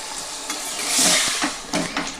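Water poured into a pan of flat beans (sim) cooking on the stove, a hissing sizzle swelling up with stirring scrapes, close and fairly loud, no voices.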